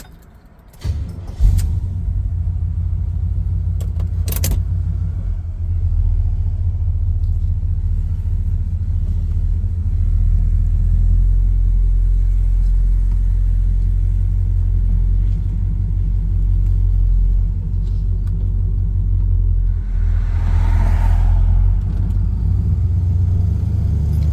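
A 1969 Camaro Super Sport starts off with a brief clatter, then settles into a loud, steady low engine rumble as the car drives and accelerates, with a short rise in engine noise near the end.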